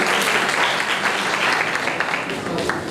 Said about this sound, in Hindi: संडे स्कूल के बच्चे इनकी हौसला अफजाई और मेहनत के लिए एक बार फिर ढेर सारी तालियां।